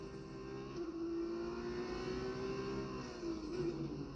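An F1 race car engine in a racing video game holds a sustained, rising high whine through a straight, steady and fairly quiet, with small pitch shifts near the end and no talking.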